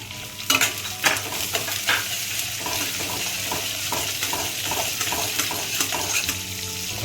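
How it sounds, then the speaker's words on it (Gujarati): Chopped onions frying in hot oil with moong dal in a pan, a steady sizzle with several scraping stir strokes near the start and scattered clinks, close and moderately quiet. "કાંદા નાખી દેવાના."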